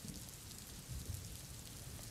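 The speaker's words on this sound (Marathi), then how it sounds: "मुंबईमध्ये आपण पाहतोय मुसळधार पाऊस सुरू आहे" Heavy monsoon rain pours down in Mumbai, a dense, continuous wash of drops on surfaces, fairly faint and steady, with a few low rumbling swells underneath.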